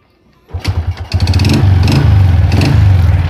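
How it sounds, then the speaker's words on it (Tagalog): A motorcycle engine sputters as it is kickstarted, then catches and settles into a loud, steady chugging idle close by. "Papaandarin natin yung kickstart natin."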